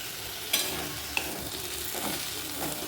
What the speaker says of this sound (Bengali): এটা একবার একটু ভালো করে কষিয়ে নিই